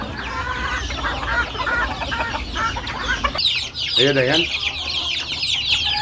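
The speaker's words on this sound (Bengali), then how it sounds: "এই মুরগিগুলো বের হচ্ছে দেখুন" Young chickens clucking and cheeping as they come out of a cage on a small poultry farm, several birds calling busily and close by, with someone talking over them.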